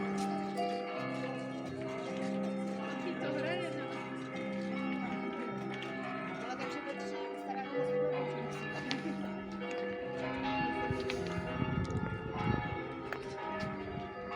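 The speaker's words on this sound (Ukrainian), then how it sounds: "12 годин б'ють куранти." Town clock chimes in Písek, Czechia, ring out for twelve o'clock as overlapping bell tones and a tuneful melody, with faint crowd chatter and footsteps around them.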